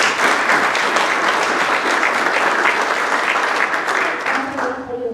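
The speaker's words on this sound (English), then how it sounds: "Let's give a round of applause." A school audience gives a sustained, dense round of applause for a student honored as National AP Scholar with Distinction, loud and steady before thinning out near the end.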